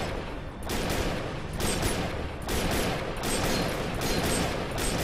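The Volge Warmaster boss in the shooter game Defiance fires from its hands in long, loud, dense bursts of gunfire. Rapid shots continue almost without a break, with a few brief dips between the volleys.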